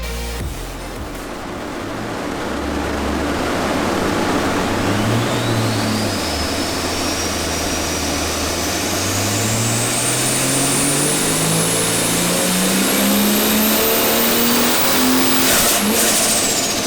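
Turbocharged Ford Falcon FG engine, converted from naturally aspirated, running and revving hard, pitch sweeping up steadily over a constant loud drone with a rising turbo whine above, close and alone without talk.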